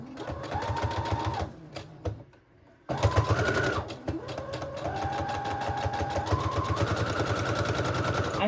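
A sewing machine stitches patchwork pieces for a junk journal in fast, steady bursts of motor whir and needle clatter, pausing briefly near the middle before running on again at an even pace.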